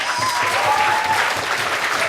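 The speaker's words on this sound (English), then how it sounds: "another round of applause to the trainers who've worked tirelessly" Audience applause at an awards announcement during a youth forum in Ireland, steady dense clapping from a crowd filling the whole short stretch at an even level.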